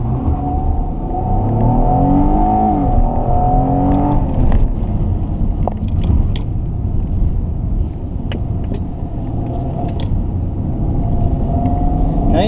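A race car accelerates hard on a banked oval autocross course, its engine loud and close in a continuous rising roar with shifting tones and a few clicks and rattles.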